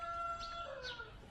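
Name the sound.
chickens clucking in boxes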